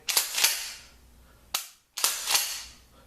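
An IAC Hawk 981R shotgun fires buckshot in three sharp, loud reports, the first two close together and a third after a short pause, with no speech.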